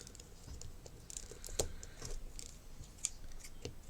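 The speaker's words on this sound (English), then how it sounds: "Let's get my scissors for that." Scissors snip small bits of orange craft material in a scattered series of faint, crisp clicks over a quiet background.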